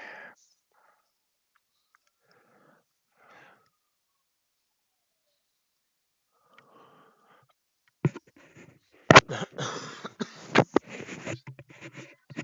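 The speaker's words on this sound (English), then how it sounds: "Sorry if I coughed into anybody's ear there." A single close, loud cough blasts into a microphone during a live futures-trading stream, followed by brief rustling and handling noise as the mic catches on eyeglasses, after several seconds of near silence.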